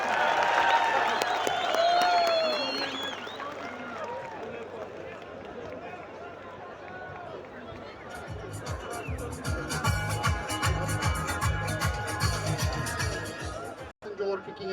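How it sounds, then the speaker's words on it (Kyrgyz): Assembly audience clapping after a speech, first under crowd chatter, then swelling into steady, fairly loud applause that continues to the end with a brief dropout near the close. "Буга да бир кол чаап коюңуздар."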